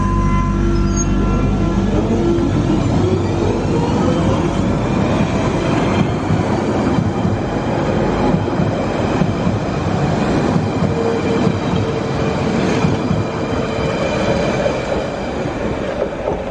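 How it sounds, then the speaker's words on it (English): A freight train rumbles past steadily and loudly, wheels squealing and rattling on the rails throughout, with no speech. "Another freight train coming."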